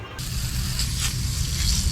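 An aerosol can of AC coil cleaner hisses as it sprays onto the ribs of an air conditioner coil, a steady close airy spray running without pause for about two seconds.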